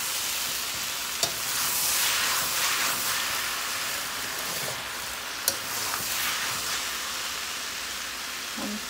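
Cabbage and potato sabzi sizzles and fries in a pan: a continuous, fairly loud hiss with a few sharp clinks of stirring, and no voices.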